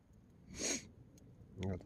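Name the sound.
sniffing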